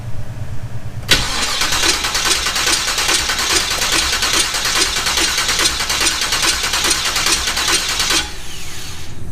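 A hot rod engine with a carburetor cranks and catches with a sharp start. It then runs loud and close at a steady, rapidly pulsing idle for about seven seconds before cutting off abruptly.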